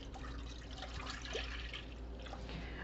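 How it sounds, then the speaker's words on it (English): Milk poured into a pan for fresh ricotta, a steady soft liquid trickle and splash running continuously at moderate level with no talking. "So we start by putting our milk in the pan."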